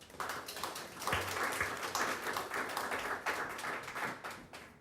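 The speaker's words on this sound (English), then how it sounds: "give yourselves a round of applause" Audience applause at a housing celebration for transitional-age youth, steady dense clapping from a crowd, fairly loud and continuous for the whole stretch with some sharper individual claps.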